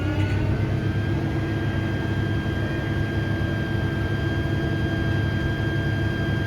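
A tractor's engine rising to higher revs as its hydraulics are engaged while hooking up a drill, a steady loud low drone with a faint whine above, continuous and close with no talking.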